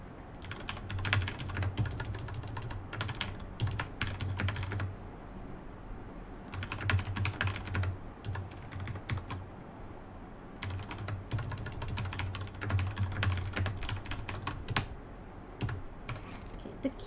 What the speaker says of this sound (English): Keyboard keys are really annoying me.